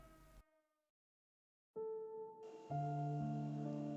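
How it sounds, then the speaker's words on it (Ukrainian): A Ukrainian air raid alert plays as electronic siren tones: a short tone that cuts off, then after a pause a steady tone that swells into a louder, layered blare continuing to the end. "Увага! Повітряна тривога."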